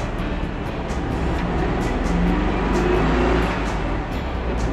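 An old Porsche 64 Berlin-Rome car pulling away in first gear, its engine a steady, loud rumble throughout with no talking.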